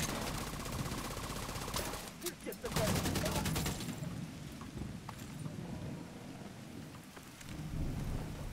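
Heavy rain and thunder in The Division 2, a loud broadband downpour hissing throughout with a sharp crackling burst and rumble partway through, then steady rain continuing.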